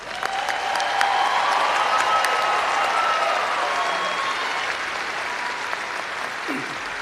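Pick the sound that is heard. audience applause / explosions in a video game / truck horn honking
audience applause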